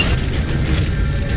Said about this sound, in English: For the railgun to shoot down.